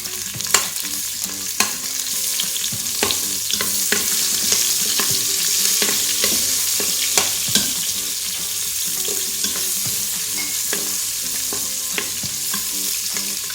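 Onions sauté in a hot pan for kare-kare, sizzling loudly and steadily while a utensil stirs and scrapes in sharp, repeated strokes.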